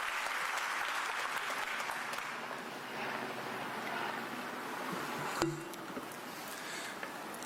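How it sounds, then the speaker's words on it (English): Crowd applause at a civic celebration with fencing athletes about to demonstrate, sustained even clapping from a large group that softens slightly toward the end, with a brief sharp knock partway through. "I want to give you a big round of applause for these athletes"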